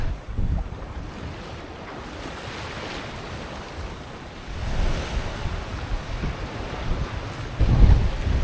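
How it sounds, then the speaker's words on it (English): Rough sea waves surge and wash continuously in steep, rolling seas at an anchorage off Baja California, with wind buffeting the microphone and a louder swell crashing near the end. "especially in these wildly rolly, steep seas"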